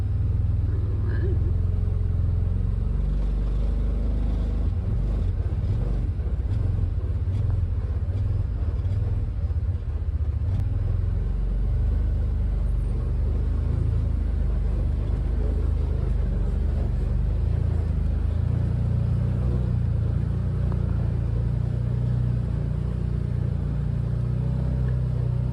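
An off-road vehicle plows through puddles and mud, its engine a continuous low rumble with swells of revving. Faint voices sit under the engine noise.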